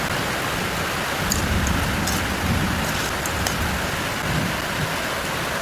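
Steady rain falling outdoors on a rainy day, a continuous even hiss of drops on surfaces, moderately loud throughout with no voices.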